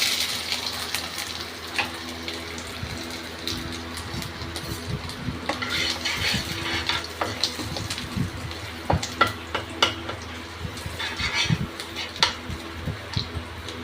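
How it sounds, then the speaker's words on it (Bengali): Cumin seeds, dried red chili and ginger paste frying in hot oil in a pan, a steady close sizzle broken by crackles and sharp pops as the spices are stirred, with no talking. "জিরে ফুটতে ফুটতে একটা শুকনো লঙ্কা ফাটিয়ে দিয়ে দিলাম"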